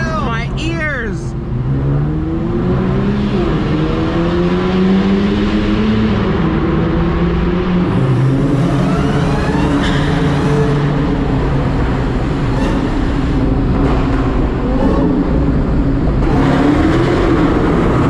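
An 800hp Dodge SRT Hellcat launches hard on a wet road, its engine roaring loudly and sweeping up through the revs with tire and road noise, and voices can be heard underneath.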